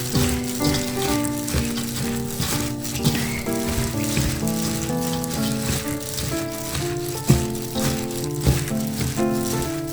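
Hijiki seaweed dressed with sesame oil is stir-fried in a pan, giving a continuous close sizzle and crackle with occasional stirring clatter, under a melodic music background.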